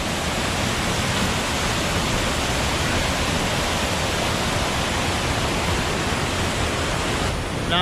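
Water flowing down from the Bababudangiri Hills in India rushes in a continuous, even roar, loud and close, with no voices or other sounds.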